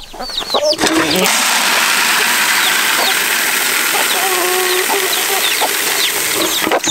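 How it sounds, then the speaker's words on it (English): A crowd of chickens and small chicks clucking and peeping around a feed bin on a farm, loud and close, over a constant rushing noise, with someone talking briefly at the start. "Look at all these little bitty chicks."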